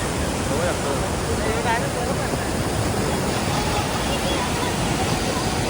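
A constant heavy roar of cascading water at Tavli waterfall above Bohnoli village, Ambernath, fills the scene, with a voice briefly audible beneath the rush.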